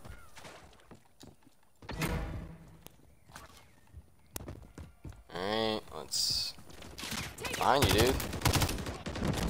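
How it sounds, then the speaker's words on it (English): Gunfire in Call of Duty: Modern Warfare 3 on the Favela map in Hardpoint mode, with scattered shots and short bursts at moderate loudness, mixed with footsteps and game effects while someone talks over it. "I just saw bullets, so I started firing."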